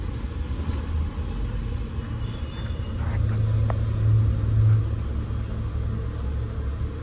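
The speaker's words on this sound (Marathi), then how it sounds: "गाडी आपण पेट्रोलवरती स्टार्ट केलेली आहे." A Ford Figo Aspire fitted with a CNG kit idles on petrol after starting, giving a steady low engine rumble close by that swells slightly midway, with no talking.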